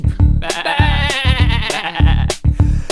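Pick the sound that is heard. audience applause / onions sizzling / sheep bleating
sheep bleating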